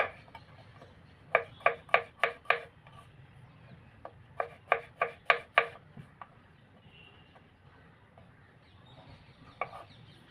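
Mushrooms being finely chopped on a board, quick bursts of sharp knife taps in rapid runs of four or five, with short pauses between, close and clear.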